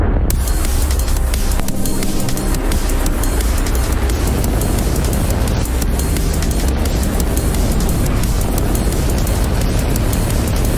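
A rocket lifts off for the Hughes Jupiter 3 mission with a loud, continuous, crackling roar that stays at full strength throughout.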